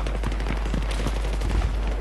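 Battlefield 3 gameplay carries dense gunfire: rapid, overlapping bursts of automatic shots, steady and moderately loud over a low background rumble.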